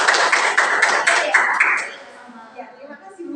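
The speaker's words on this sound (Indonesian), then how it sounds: "berikan aplaus buat Salma" Classroom applause for a student named Salma, a short patter of several people clapping that fades out after about two seconds, followed by faint speech.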